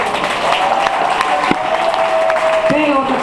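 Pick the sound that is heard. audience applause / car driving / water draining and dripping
audience applause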